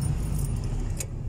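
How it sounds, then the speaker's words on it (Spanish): Keys jangle close by in a Volkswagen Beetle while a low engine rumble runs steadily underneath during a brief moment. "voy a arrancar el superbocho"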